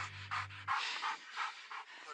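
A dog pants in quick, close, rhythmic bursts at a roadside police stop, with a low engine-like hum under the opening moments.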